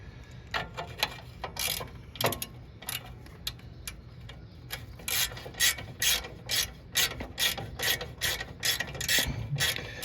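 A socket wrench ratchets an 8mm bolt on a 1994 Honda GL1500 Goldwing during a shifter support bracket install, producing rapid close metallic clicking in bursts of varying length with short pauses between strokes.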